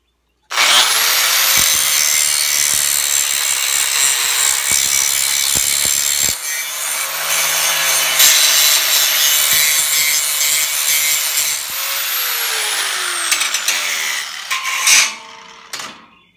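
A metal edge clamped to a table being shaved flat, giving a loud, continuous close-up scraping rasp that holds steady for roughly fourteen seconds before stopping with a few clattering knocks.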